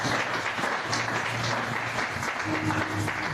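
Church congregation applauding for the Lord, a steady, dense wash of clapping at moderate volume with no pauses throughout.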